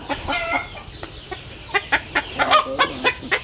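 Chickens in a netted, sand-floored pen cluck in quick, sharp bursts close by. A longer drawn-out call comes near the start, then a run of rhythmic clucks.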